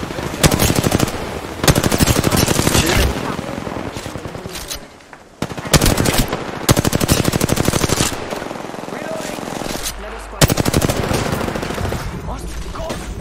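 Rapid automatic gunfire fills a shooter video game firefight, in loud sustained bursts separated by brief gaps, with steady rattling shots close up throughout and no talking heard.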